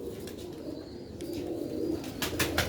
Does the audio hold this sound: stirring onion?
no